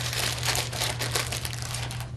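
Scissors cut through a craft pom-pom, heard as a close, steady crunchy rustle of fibres lasting about two seconds over a low hum.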